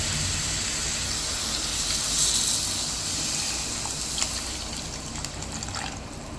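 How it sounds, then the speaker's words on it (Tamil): Water poured into a pan over dry vanjaram fish in spiced gravy, a continuous close splashing and trickling that swells slightly midway, followed by a couple of faint clinks, with no talking. "இது முழுகிற அளவுக்கு தண்ணி ஊற்றிக்கிட்டோம்ப்பா."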